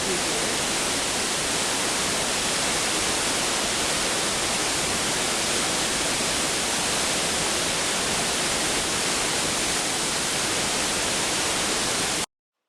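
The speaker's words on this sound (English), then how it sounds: "What a spectacular waterfall!" A waterfall on a Himalayan trek between Bahundanda and Chamje pours in sprays of mist onto rocks below, a loud, steady broadband roar that fills the whole stretch without a break.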